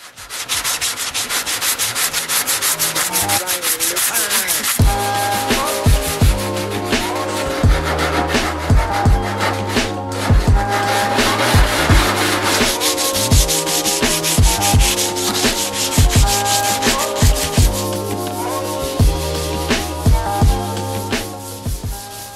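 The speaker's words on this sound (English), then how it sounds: "we're gonna come back, sand this down" Dried body filler on a Genesis Coupe hood being sanded with steady, rhythmic rubbing strokes, loud and close, repeating for over twenty seconds with no talking.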